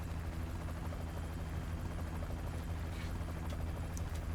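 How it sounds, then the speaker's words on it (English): A helicopter in FF7 Ever Crisis holds a continuous, loud rotor thrum and whine throughout, close and steady, with no talk over it. "That's your chopper."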